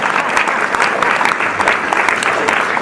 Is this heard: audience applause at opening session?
yes